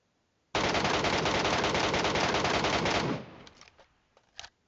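Automatic gunfire in PUBG Metro Royale rattles out in one long, loud, rapid burst of about two and a half seconds, then cuts off into a few scattered faint shots and clicks.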